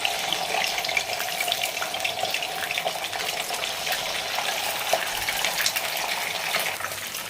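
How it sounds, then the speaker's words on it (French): Fish frying in hot oil gives a continuous, dense crackling hiss that stays fairly even and close the whole time, with no talking. "maintenant qu'on a déjà laissé frire nos poissons 2 minutes de chaque côté"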